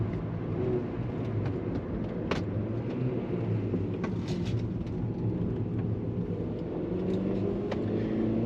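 An Audi A2 driving along a winding country road, its engine and tyre roar a steady low rumble heard from inside the cabin, with occasional small knocks and bumps over the surface.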